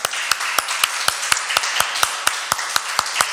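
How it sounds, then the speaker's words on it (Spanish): In a church service after a sermon, the congregation claps in a loud, evenly spaced rhythm, about four sharp beats each second, close and without talk. "Damos un aplauso a Dios."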